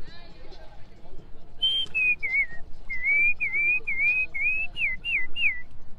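On a street in Portugal, a person whistles an imitation of bird calls. About ten short, warbling, chirp-like phrases come in quick succession, clear and close, over faint background chatter.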